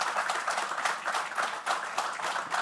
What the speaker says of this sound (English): So I think that he deserves a round of applause